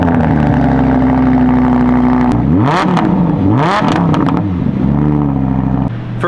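A Lamborghini Huracan with an aftermarket exhaust revs loudly and close by, its engine note climbing and falling through several sharp blips with a steady idle rumble in between.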